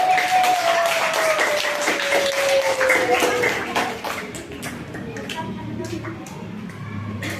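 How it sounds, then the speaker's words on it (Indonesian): Students in an Indonesian classroom clap for all the groups after a food-web lesson, giving scattered, crisp claps that thin out toward the end, with a gliding tone and voices early on. "Tepuk tangan dulu untuk semua kelompok"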